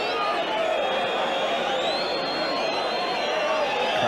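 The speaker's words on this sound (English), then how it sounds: "Crowd are whistling." A football stadium crowd at Spurs versus Leeds United whistling in disapproval, a dense sustained shrill whistling over crowd roar, under a commentator's voice.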